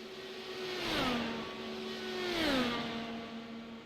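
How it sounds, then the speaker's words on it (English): IndyCar race cars in the iRacing video game roar past in two waves, each engine note rising and then dropping as the car goes by, with a steady distant drone between passes. "Did I hear a car almost get into the wall?"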